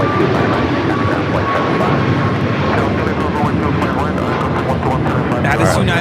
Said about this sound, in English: That is United Airlines 1896 taking off to Cleveland on the MAX 9